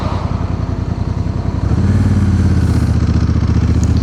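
A 2025 Honda Africa Twin Adventure Sports motorcycle rides along, its engine pulsing with a rapid mid-pitched rhythm that steps up in tone partway through, loud and close with some mechanical clatter.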